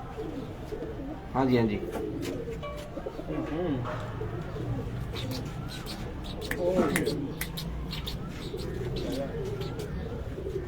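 Racing pigeons coo repeatedly on a Punjab rooftop loft, soft rolling calls rising and falling in bursts, with chirps and a voice speaking briefly over them.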